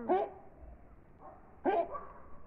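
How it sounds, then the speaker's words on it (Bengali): A dog gives two short barks about a second and a half apart, fairly close and moderately loud, with quiet background noise between them. "তাই এবার কুকুরই ডাকছে"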